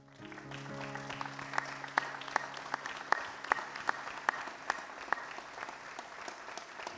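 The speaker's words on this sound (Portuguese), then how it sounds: "A nossa orquestra quer bater palmas para essas pessoas hoje em agradecimento." Members of the Atrios Orchestra at AD Passo Fundo clap in thanks for the people who cooked lunch, a soft crowd of claps with sharp individual strikes standing out, fading toward the end.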